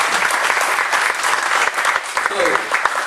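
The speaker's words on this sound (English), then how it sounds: "Let's give another round of applause to Mr. K" Continuous dense applause from an indoor audience after a presentation, steady and close, with a voice speaking faintly over the clapping.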